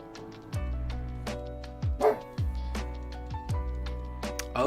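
Dogs in a video game bark in short repeated yips and woofs, several sharp calls spread unevenly over a few seconds against a tonal musical backdrop, with no one talking.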